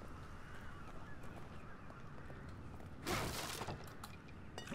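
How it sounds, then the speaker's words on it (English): In The Evil Within video game, a flock of spooked birds bursts into flight with a sudden loud flurry of flapping and cries over a quiet, dark ambience, then a few scattered calls. "Look at the birds"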